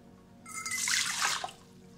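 Water is poured into a stand mixer bowl fitted with a dough hook for bread dough, making a brief splashing gush of about a second that trails off into light dripping.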